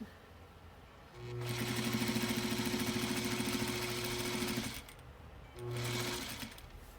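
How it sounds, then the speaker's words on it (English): An industrial sewing machine hemming a bridal gown from the waist, running in one long, loud, steady buzzing stretch of several seconds, then stopping briefly and restarting for a shorter run. "That's the beauty of an industrial or a commercial sewing machine."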